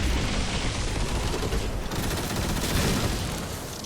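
An empowered grenade explodes in the video game Destiny 2, a dense, loud, sustained roar of blast and crackling gunfire-like bursts filling the whole moment without pause.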